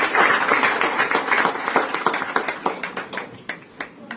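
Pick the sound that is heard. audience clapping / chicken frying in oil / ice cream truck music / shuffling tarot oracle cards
audience clapping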